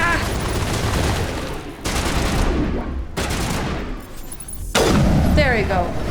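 Bursts of gunfire in the Mass Effect video game, with several loud rapid volleys separated by brief gaps over continuous battle noise.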